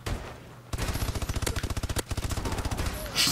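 Rapid automatic fire from a KF5 submachine gun in Call of Duty: Advanced Warfare multiplayer, a quiet lull breaking into sustained bursts of evenly spaced shots, briefly pausing, then resuming, with occasional game voice in the mix.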